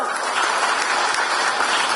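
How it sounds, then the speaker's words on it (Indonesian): Steady, dense applause from a crowd at a PDI Perjuangan political rally during a speech by Megawati, a continuous close clapping wash with no pauses. "tepuk tangannya aja nggak meriah"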